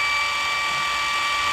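A cheap cordless JLD impact wrench spins freely, giving a steady, thin electric motor whine with a constant pitch, close and moderately loud.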